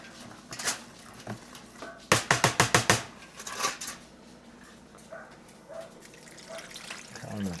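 A rice mixture poured and scraped from a container over chicken in a baking dish: soft wet slides, then a burst of rapid clattering scrapes, with a voice talking now and then.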